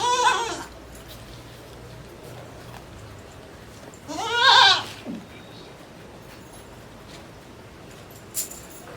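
Goat bleating twice in a rural outdoor setting, a wavering cry at the start and a louder, nearer one midway, with quiet background and a faint click near the end.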